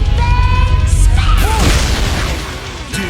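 A heavy booming explosion from a fighting-game special move in BlazBlue Chronophantasma, loud and close, with swirling sweeping tones and a crashing burst that slowly decays under ongoing game effects.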